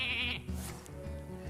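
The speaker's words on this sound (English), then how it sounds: "Sheep, best card in the game." A sheep gives a quick bleat from a polymorph spell in the Hearthstone card game. It is short and fairly clear, heard over soft game music and low background sound.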